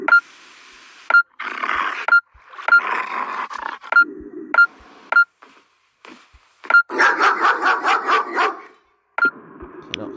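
A dog barks repeatedly in short, sharp bursts, mixed with recurring electronic beeps and whimpering sounds in an Elmwood Trail game scene, with brief quiet gaps between the loud, close barks.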